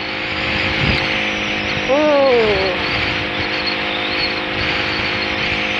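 A Kawasaki D-Tracker 150 motorcycle on road tyres rides along with a steady engine drone, and its pitch rises sharply for a moment partway through.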